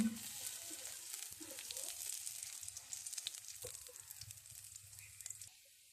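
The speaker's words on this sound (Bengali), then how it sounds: "তেল দিয়ে আমি পেঁয়াজটাকে সুন্দর করে ভেজে নেব।" Onions fry in oil in a wok, giving a steady, fairly faint sizzle with occasional stirring scrapes before the sound drops away near the end.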